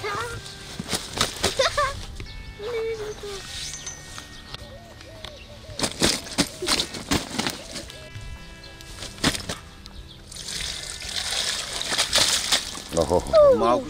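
Water sloshes and sprays from a filled container set on the ground beside a lake while carp fishing, splashing in bursts through the clip with people talking throughout.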